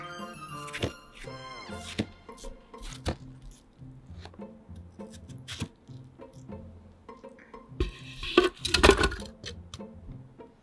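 A knife chops a seedless watermelon into small pieces on a board, giving a run of sharp, irregular thunks and wet squishy cuts, with a louder, denser burst of chopping near the end.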